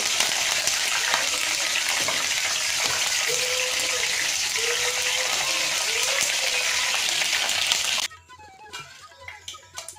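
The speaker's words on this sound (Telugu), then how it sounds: "చూడండి కరివేపాకు కూడా బాగా ఫ్రై అయిపోయింది అనమాట" Curry leaves frying in hot oil in a pan give a steady, dense sizzle for about eight seconds, then cut to a quieter stretch with faint scattered clinks.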